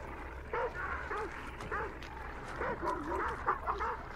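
Dogs bark and yip in the video game Hunt: Showdown, a series of short, fairly close barks spread across the moment with faint voices mixed in.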